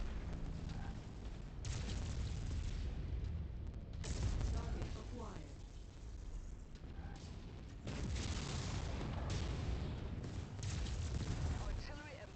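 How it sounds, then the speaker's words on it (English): Artillery emplacement exploding in the mech combat video game MechWarrior 5, heavy booming blasts and rumbling gunfire rolling in several loud waves, with voices talking over the battle. "Artillery emplacement destroyed."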